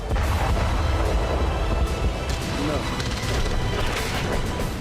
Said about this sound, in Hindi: बमों के ये धमाके, मिसाइलों की बौछार, फाइटर ड्रोन से बरसता बारूद